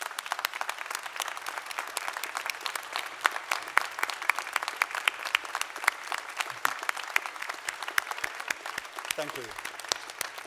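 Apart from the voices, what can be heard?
graduates applauding the auditorium audience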